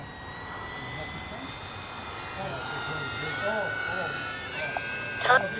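An FMS PC-21 Pilatus RC jet trainer model flies low past with flaps down, its steady whining engine drone holding close and fairly loud, with a brief sharp noise near the end.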